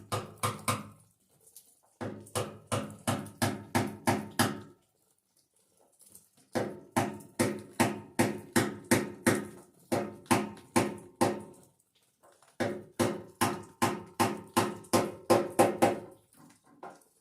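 Metal hammering on a Ford E150 van, a hammer driving a small screwdriver, comes in three fast bursts of sharp, ringing, evenly spaced strikes, close and loud, separated by brief pauses, with no talking.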